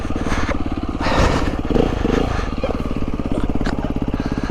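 A motorcycle engine runs loud and close with a steady low pulsing throb that rises in a brief burst of revs partway through, with a faint voice mixed in.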